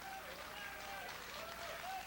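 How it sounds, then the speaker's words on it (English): Wrestling crowd in an indoor venue applauds steadily for a match between Jerry Lynn and Billy McNeil, a dense, continuous patter of clapping heard at a distance, fairly faint. "The crowd showing these guys respect."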